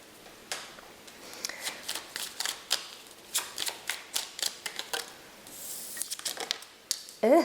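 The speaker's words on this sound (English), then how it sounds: "right after shuffling this deck right here" A deck of tarot cards is shuffled by hand in a series of quick, crisp riffling bursts, about a dozen close snaps in an irregular rhythm, with a brief rustle near the end.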